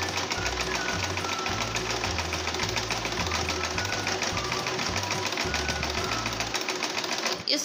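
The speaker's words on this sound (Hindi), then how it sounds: "उसके बाद इसे इस अकॉर्डिंग रखकर और इसे ऐसे स्टिच कर देना है।" A sewing machine stitches a wide lace border onto a dupatta cut from a bandhej saree, its motor running in a steady rhythmic chug of repeated bursts for several seconds before stopping near the end.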